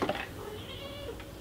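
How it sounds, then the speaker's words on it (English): A pet cat indoors gives a short, close meow lasting about a second, with soft room noise behind it. "Currently chilling here with my cat."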